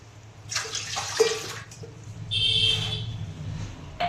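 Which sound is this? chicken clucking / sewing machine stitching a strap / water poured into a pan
water poured into a pan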